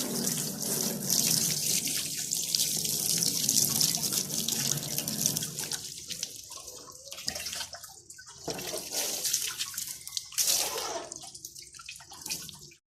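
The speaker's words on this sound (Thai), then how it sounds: "ผ้าถูล้างน้ำทำความสะอาด" A car part being cleaned with water and a cloth before rust-proofing primer is sprayed, with steady running and splashing water that breaks into wiping and dripping pauses midway, close and alone.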